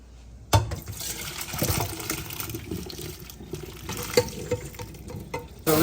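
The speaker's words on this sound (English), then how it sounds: "Pour the water out in a strainer." Hot water from cooking Buldak noodles is poured out into a strainer, giving a steady close splashing gush for several seconds, with a sharp knock at the start and another at the end.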